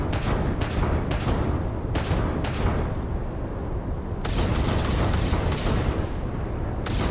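Ship weapons firing in the space game Starfield, heard as clusters of rapid booming shots over a constant dense roar, with the volleys pausing and then returning in quick succession.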